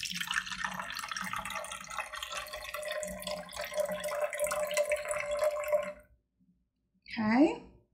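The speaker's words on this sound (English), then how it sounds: "we're going to take our water and put in about a fourth of the jar" Water pours into a jar for a homemade lava lamp, a steady splashing fill whose pitch rises for about six seconds, then silence and one short final trickle.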